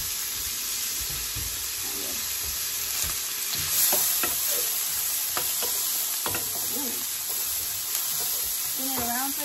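Onion and garlic frying in a big pot for a seafood soup, a continuous broad sizzle with scattered light clinks and scrapes of stirring, and brief faint voices in the background.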